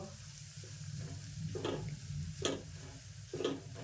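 Fine semolina roasts in a pan with oil and ghee, a soft low sizzle under three short scraping strokes of a spoon stirring the grains, close and fairly quiet.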